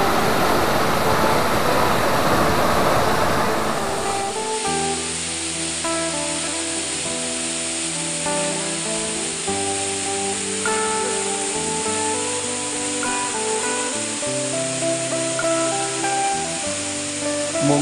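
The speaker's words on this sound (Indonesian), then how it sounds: "Dan pastinya air terjun ini sangat keren" Waterfall above a village, heard as a loud, steady rushing roar at first that gives way to music playing over a softer wash of water.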